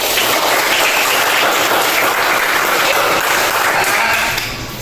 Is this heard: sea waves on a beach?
no